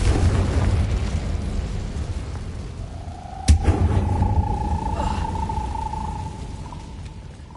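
A Confringo blasting curse explodes in the Hogwarts Legacy wizarding game, one sudden sharp bang over a steady rumbling game backdrop, followed by a lingering ringing tone.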